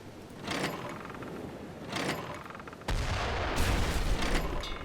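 Ship cannons fire in a turn-based nautical combat game, bursts of booming shots at about half a second and two seconds, then a denser, louder volley of gunfire rolling on from three seconds to the end.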